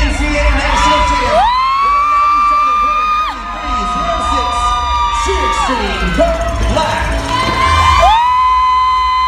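A cheer competition crowd roars for a new NCAA national champion team, with sustained high-pitched screams and shrieks from many voices, loud and close, rising in waves.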